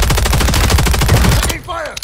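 Rapid automatic gunfire from the video game Call of Duty Warzone (MW3 Lockdown squads mode), loud and continuous bursts for about a second and a half, then breaking off into brief game sound effects.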